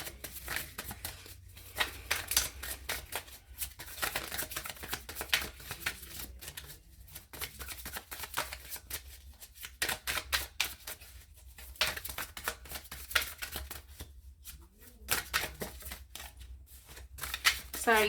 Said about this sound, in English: I'm really just trying to shuffle and get one card at a time